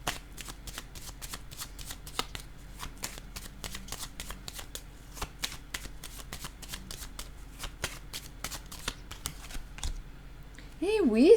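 Playing cards being shuffled and laid down: a quick, steady run of soft riffling clicks and taps close by, ending in a brief swooping sound effect.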